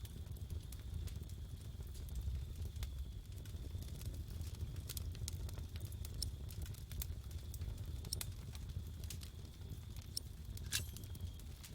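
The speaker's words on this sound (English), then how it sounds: "The woman lit a fire, which came alive with a crackle and gave out a warming glow." A newly lit indoor fire crackling as an audiobook sound effect, with a low steady roar and scattered sharp pops and snaps, fairly quiet throughout.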